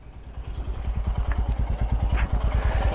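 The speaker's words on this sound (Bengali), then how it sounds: "ওই যে বাইকটা আসছে" A motorcycle on a monsoon road ride, its engine thumping in a fast, steady pulsing rhythm that stays close and fairly loud and grows slightly stronger as it approaches, with no talking.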